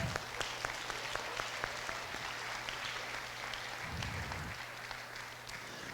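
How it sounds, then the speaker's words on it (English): Dancers at a blues dance class applaud themselves, with scattered, moderately quiet clapping over a low steady hum, lasting several seconds. "Give yourselves a round of applause."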